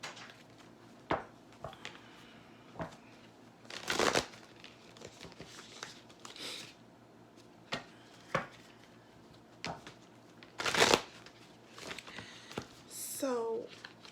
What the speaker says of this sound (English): I'm going to pull some cards from the Spirit Animal Oracle deck.